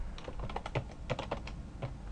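Keyboard typing while configuring a Cisco network switch, a steady run of quick key clicks with a few heavier keystrokes, close and clear with no talking.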